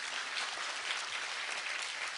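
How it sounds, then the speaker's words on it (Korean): Participants at a Daegu citizens' round-table meeting give a round of applause, a steady, even wash of many hands clapping throughout. "박수 한번 부탁드리겠습니다."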